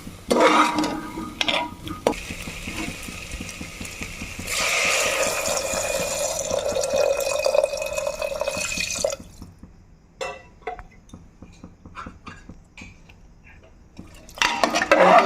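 Water poured into a pan of fried potato curry, a rushing splash that then gives way to clinks and stirring of utensils against the pan, with louder kitchen clatter at the end.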